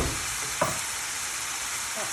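Meat fries in a pan with green chilies and coriander, a steady close hiss and crackle of hot oil, broken once by a brief scrape of stirring, with no talk.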